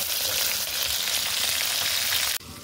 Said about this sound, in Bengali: মাছগুলো লাল লাল করে ভেজে নেব। মাছের এক পাশ ভাজা হয়ে গেলে আর এক পাশ উল্টে দিয়েছি।